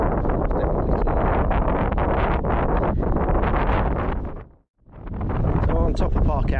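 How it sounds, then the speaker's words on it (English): Strong wind blasts across the top of a hill on a circular walk near Chrome Hill, roaring loudly into the microphone with continuous gusting, a brief lull near the end, then a renewed rush. "It's really windy up here, so I don't know whether you can hear me."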